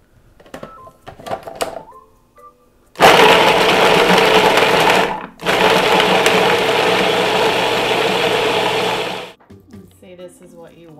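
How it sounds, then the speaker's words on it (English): A food processor whirs loudly while finely chopping carrots, two bursts of steady high-speed blending separated by a brief pause, with quiet kitchen handling sounds before and after. "I'm going to be taking these and chopping these up finely in my food processor"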